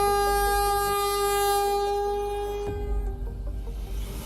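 A loud, sustained train horn blasts near suburban homes in Queensland, a steady multi-tone chord that cuts off abruptly and leaves rumbling train noise behind.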